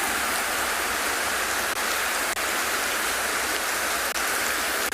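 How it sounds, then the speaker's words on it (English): Heavy rain pours steadily onto a safari vehicle during a morning drive in South Africa, a dense, continuous roar with a few sharper thuds and the occasional swipe of the windscreen wipers, no voices. "Rain in this sort of magnitude can be quite destructive."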